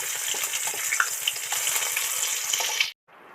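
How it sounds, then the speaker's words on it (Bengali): Bhola fish frying slowly in a pan over a lowered flame, with steady close sizzling and spitting oil that cuts off abruptly near the end, leaving only faint background noise. "বন্ধুরা মাছগুলো সুন্দর করে আস্তে আস্তে ভাজা হতে থাকছে"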